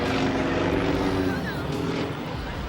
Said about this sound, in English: The custom-built red biplane was performing aerobatic maneuvers and did a downward